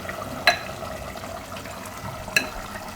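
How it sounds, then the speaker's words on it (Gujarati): Water is poured over onions and potatoes in a pressure cooker, a soft steady splashing wash broken by two sharp metallic clinks. "આ રીતનું પાણી નાખવાનું એમ આટલું"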